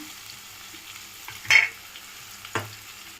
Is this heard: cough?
no